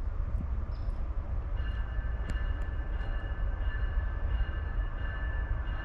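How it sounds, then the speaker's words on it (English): A CSX manifest freight train led by an ET44AH locomotive rolls steadily past, giving a continuous low rumble of wheels and cars with faint squeals and clanks over it. No one speaks. "All the trains are coming through at once."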